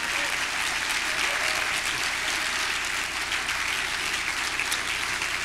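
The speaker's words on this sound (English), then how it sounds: "And let's give them a huge round of applause," Steady, full applause from a conference audience, continuous dense clapping across the room without a break.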